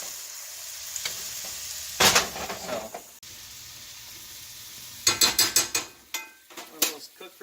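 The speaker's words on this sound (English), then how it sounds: "Cook for a few minutes and flip them and keep basting them." Burgers sizzling in butter while being basted, a soft steady sizzle broken by bursts of scraping and clattering from a spoon or spatula against the pan.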